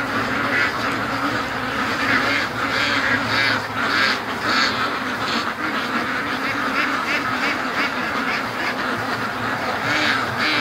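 A big flock of free-range ducks returning from a lake, quacking continuously in a dense, overlapping chorus, near and loud outdoors, with no pauses.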